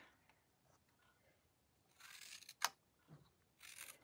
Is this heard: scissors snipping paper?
yes